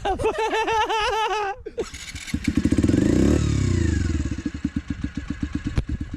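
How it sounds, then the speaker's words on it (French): A stock 50cc moped with a twin-cam four-valve engine and original exhaust runs close and loud, starting with wavering revs, then a brief drop before climbing through a rising rev and settling into a rapid chugging idle. "double arbre à cam, 4 soupapes qui chante plutôt bien"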